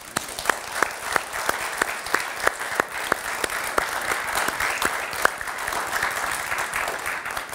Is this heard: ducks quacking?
no